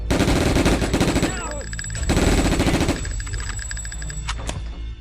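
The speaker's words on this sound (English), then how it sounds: "I think we just got ourselves a new gun. This would be our assault rifle, right?" Automatic assault rifle fire in the shooter video game Sniper: Path of Vengeance, loud and close, coming in two sustained bursts followed by scattered shorter shots.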